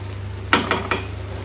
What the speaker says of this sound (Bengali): খুব ভালোভাবে নেড়ে নেব।